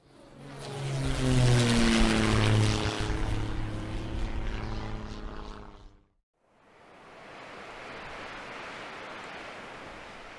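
A cartoon jet airplane roars past as a sound effect: a loud, swelling whoosh with a falling engine whine fades and cuts off, then a softer rushing hiss follows.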